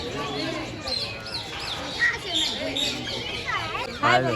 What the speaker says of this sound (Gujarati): મેઘ ધનુષી પોપટ જો અંદર